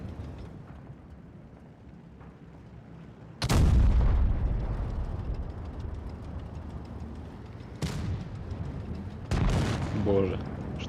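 Heavy booming cannon shots from tanks in the Tanks Blitz video game during a Normandy D-Day landing battle, three loud blasts spaced several seconds apart over a steady rumbling background, with a voice talking alongside.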